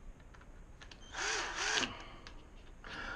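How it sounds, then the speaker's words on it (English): A power drill with a 3/8 bit whirs in two short bursts, rising and falling in pitch as it bites, with a pause between them. No talking. "drill our hole"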